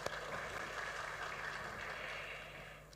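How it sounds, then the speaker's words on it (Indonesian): A church congregation applauding during a Sunday worship service, a steady, moderately distant wash of many hands clapping that holds evenly throughout, fairly faint and heard without talk. "berikan tepuk tangan"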